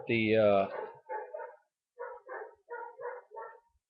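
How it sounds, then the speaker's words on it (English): A sharp yelp followed by a series of short, muffled barks in quick clusters, fairly faint and somewhat distant, with a brief pause between them. "Probably hear my dogs barking in the background."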